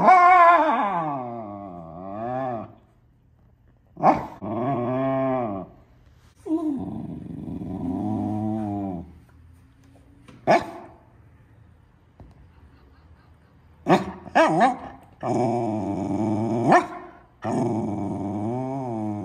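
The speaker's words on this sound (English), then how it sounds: "Do you need to get out there to bark at that animal?" Wire fox terrier growling and barking in a series of close, loud bursts, with low drawn-out growls between sharp barks, separated by brief pauses.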